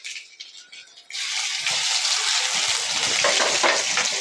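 Cumin and garlic paste hit hot oil for tomato shev bhaji, and after a quiet second a loud, dense sizzle and crackle takes over. It stays close and steady to the end, with some stirring rattles underneath.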